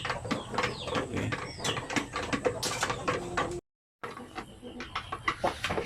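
Crossbred chickens, Black Australorp mixed with Basilan native, clucking and calling close by in a farm pen, with repeated scratchy and clattering noises alongside and a brief dropout midway.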